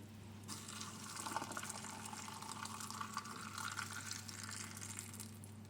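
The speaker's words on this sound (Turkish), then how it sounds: "Ağzına kadar sıcak suyla dolduruyorum" Hot water pours steadily from a tap into a glass jar, filling it to the brim. The flow is a continuous, even rush, close and moderately quiet, with no voices.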